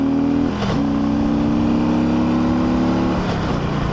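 A 2008 Harley-Davidson Ultra Classic Electra Glide with stock exhaust revs hard and loud, dropping briefly near the start and climbing again, a steady throaty roar close by with no talking.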